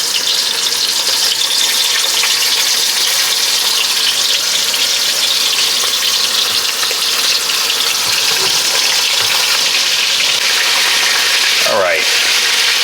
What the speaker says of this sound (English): I'm frying in a pot.